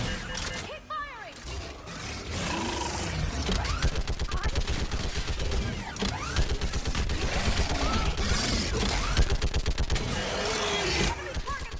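Sustained rapid gunfire in a Mass Effect firefight on a bridge, dense repeated shots forming a loud continuous rattle over several seconds, with battle noise and voices around.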